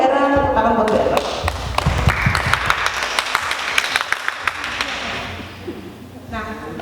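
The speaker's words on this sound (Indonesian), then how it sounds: "tepuk tangan buat Bu Era." A small audience at a school session claps with scattered, uneven hand claps and taps for a few seconds while people talk over it.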